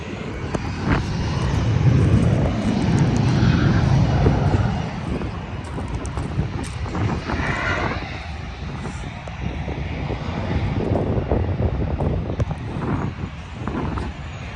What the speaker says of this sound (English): Oh, look at the Blue Angels.